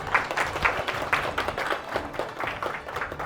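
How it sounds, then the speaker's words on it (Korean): Audience applause at a sterilization seminar in Jeonju, a short burst of moderate clapping from a small crowd in an indoor hall, fairly close and uneven in rhythm, without speech. "이 정도 박수 소리면 교육을 할 수 있어요"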